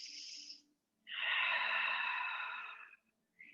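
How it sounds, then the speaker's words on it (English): Long, slow breaths during a gentle yoga flow, a short exhale followed by a long, steady breathy rush lasting nearly two seconds, close and quiet, with no talk. "One long breath."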